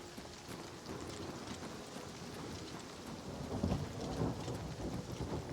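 A thunderstorm rolls through Oblivion Remastered, with steady heavy rain hissing throughout and low rumbling thunder swelling near the end, loud and continuous with no voices.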